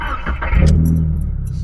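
A 2022 Subaru WRX (VB) fitted with a big turbo pulls away under a near, loud, steady engine drone that swells briefly as it gets moving.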